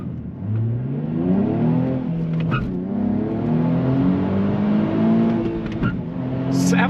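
A 2023 Nissan Z sports car engine revs hard toward 7,000 RPM, its loud, close tone climbing and falling in several rising sweeps with brief dips between pulls, heard alone without talk.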